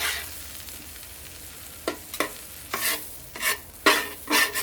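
Mee goreng noodles stir-fried on a hot BBQ plate with bean sprouts, a steady sizzle broken by a series of sharp scraping stirs that come about every half second, up close and with no talking.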